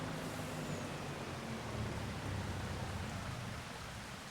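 Steady rain falls in Farming Simulator 25, a continuous, even hiss of downpour that holds at the same loudness throughout with no talking over it.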